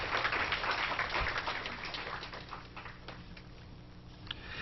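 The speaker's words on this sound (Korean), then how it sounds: "자, 우리 다시 한번 박수로 축하해 줍시다." A church congregation at a Sunday service claps for a newly married couple, a dense wash of applause that starts strong and gradually thins out, heard from within the room.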